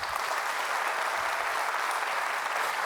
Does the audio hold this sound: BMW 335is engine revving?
no